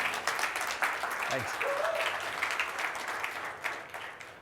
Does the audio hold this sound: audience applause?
yes